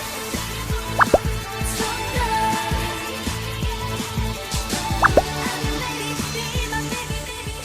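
Marshmallow squishy toys are squeezed and squished by hand, giving soft, repeated squelching and crinkling sounds in a rhythmic pattern, with a couple of sharp squeaky plops standing out.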